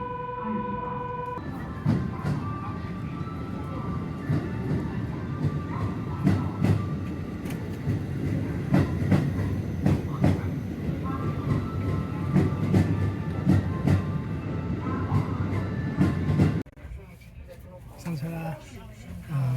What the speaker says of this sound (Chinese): 现在在关西机场的火车站，准备坐直达的火车哈鲁卡，从关西机场直接到京都